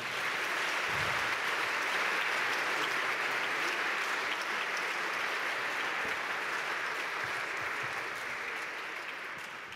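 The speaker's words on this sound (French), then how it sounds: "On peut applaudir encore." Steady, dense applause from an audience at a prize ceremony, sustained evenly for nearly ten seconds and easing slightly at the very end.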